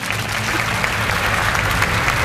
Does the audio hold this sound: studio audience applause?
yes